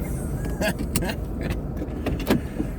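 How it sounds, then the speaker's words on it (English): A truck pulls up with a low, steady engine rumble, joined by several sharp clicks and knocks close by. "There's a truck pulling up."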